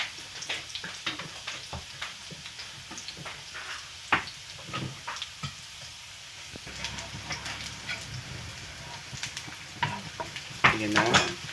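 Onions sautéing in a pan ahead of adding corned beef, giving a steady close sizzle with repeated scraping stir strokes and a few sharper clatters near the end; no one speaks during it.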